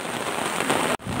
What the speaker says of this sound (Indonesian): hujan deras, ngecepres.